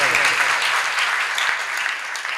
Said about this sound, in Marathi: कृपया सर्वांनी यांचं जोरदार टाळ्या वाजून स्वागत करावे